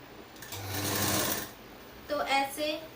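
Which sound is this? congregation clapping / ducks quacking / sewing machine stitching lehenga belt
sewing machine stitching lehenga belt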